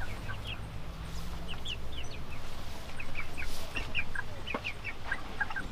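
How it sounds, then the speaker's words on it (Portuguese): Seven small chicks chirp in short, high peeps scattered across the clip, close by, over a low, steady background rumble at a poultry farm. "Tem quantos pintinhos aqui, seu Francisco?"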